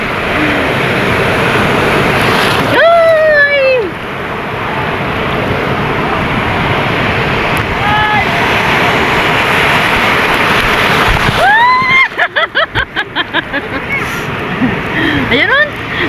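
Strong ocean waves roar continuously on a beach in La Union, with heavy wind buffeting the microphone and people's excited shouts and exclamations rising over the surf.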